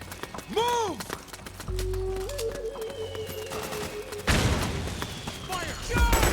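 Bursts of gunfire and booms in the PS3 video game Metal Gear Solid 4: Guns of the Patriots, mixed with shouted voices, a steady tone and heavy low rumble, with louder blasts near the end.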